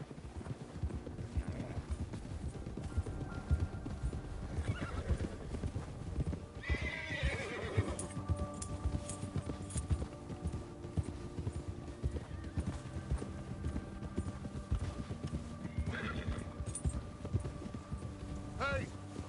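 Horses gallop in a video game, with rhythmic hoof clip-clops throughout and several sharp neighs rising above them, while character voices talk in the background.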